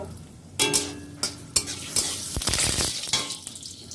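Panch phoron, a dry chilli and bay leaves dropped into hot oil, crackling and sizzling with several sharp spattering bursts and a spoon clinking against the pan, close and fairly loud.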